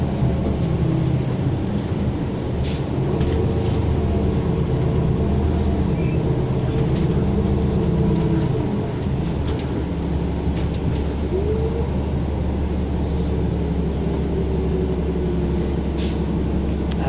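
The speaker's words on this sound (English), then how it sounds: "There are the SD160 LRT trains coming across." A steady low rumble of Siemens SD160 light rail trains rolling by, with faint squeals and scattered clicks over a continuous mechanical drone throughout.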